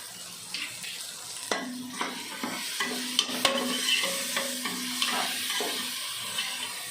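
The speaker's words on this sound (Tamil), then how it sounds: "போட்டு நல்லா காயெல்லாம் வதங்குற அளவுக்கு வதக்கி விட்டுக்கலாம்." Carrots and beans sizzle and hiss steadily in a hot pan, with repeated scraping and stirring strokes of a spatula throughout, close by and no voices.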